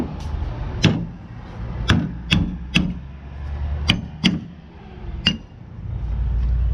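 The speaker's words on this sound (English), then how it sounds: "maybe do the top with a little hammer here." A small hammer taps metal about eight times in an irregular rhythm while replacing a power steering gasket on an L10 Cummins engine, each strike a sharp, close clink over a low steady hum.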